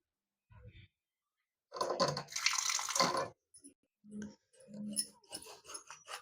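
Tap water runs into a mixer grinder jar while making amla juice, arriving in several separate splashing bursts with short silent gaps between them.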